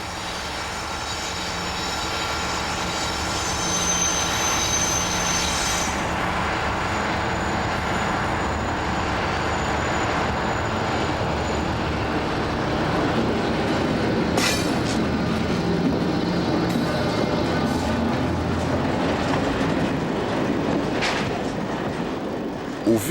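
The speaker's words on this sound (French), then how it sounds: "on identifie aisément un train arrivant d'outre-Manche, après avoir emprunté le tunnel, puis les voies du nord-est" A freight train rolls steadily past on the Dijon-Lyon main line, its wagons carrying a sustained rumble and clatter with occasional sharper metallic clanks, loud and close throughout.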